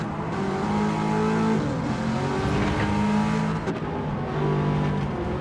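Ferrari F430 race cars in Gran Turismo 7 during an endurance race, engines howling loud and close with sustained high revs and pitch shifts between gears, with no voices.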